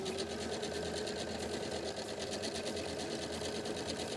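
A sewing machine stitches in reverse to backstitch while sewing a small angel pillow, its needle mechanism whirring in a steady, fast, continuous rattle with no pauses and no talking.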